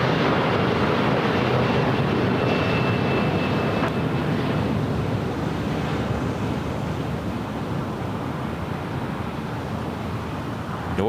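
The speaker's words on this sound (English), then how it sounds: "Key Lime Air, flight 246, coming in from Spokane, heading over here to the south side." Key Lime Air flight 246 from Spokane arriving at LAX on the south side, a steady, loud broadband roar of aircraft engine noise with wind-like rush that holds constant and eases slightly toward the end, no voices.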